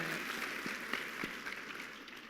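Faint, distant applause from an audience, a steady patter of clapping throughout.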